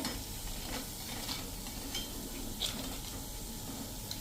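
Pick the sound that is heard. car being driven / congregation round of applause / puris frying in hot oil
puris frying in hot oil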